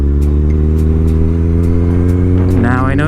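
A 2008 Kawasaki Z1000 sport bike engine runs close and loud, a steady, deep idle that rises into a brief rev near the end, with a voice talking over it.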